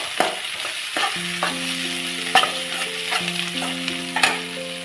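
Tomato with crushed peanuts and coriander sizzles and sputters as it is sautéed for rava upma, with a spoon stirring in intermittent scrapes over steady background music.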